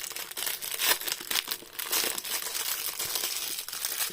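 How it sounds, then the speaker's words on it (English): Sensory fidget toy packaging rustles and crinkles steadily, close and fairly loud, with no voices over the handling. "Sorry about all the rustling."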